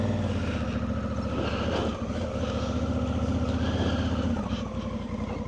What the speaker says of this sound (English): But there was a car coming